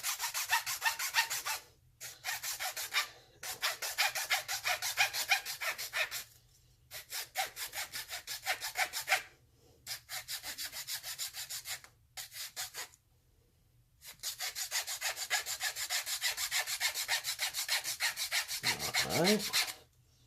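Rapid rhythmic rasping of a rotary tool sanding a wooden ring, continuing in long bursts separated by short pauses, close and fairly steady.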